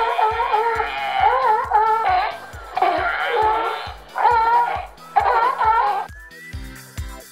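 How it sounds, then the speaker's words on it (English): Sea lions bark, bellow and roar in repeated bursts of harsh, rising calls, loud and close, with short gaps and a pulsing low rhythm beneath. "They bark, bellow, growl, and roar to communicate with each other"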